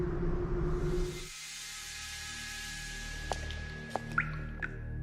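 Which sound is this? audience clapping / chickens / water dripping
water dripping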